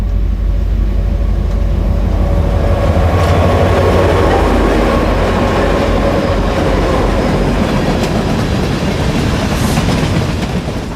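BNSF and Union Pacific coal trains roll past Reno Junction in the Powder River Basin, a steady heavy rumble of railcars with wheel clatter and faint squeal, loud and sustained.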